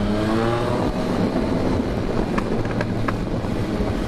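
A Yamaha MT-09 three-cylinder motorcycle engine hums and accelerates nearby, its rising tone partly masked by heavy wind noise, with a few brief clicks toward the end.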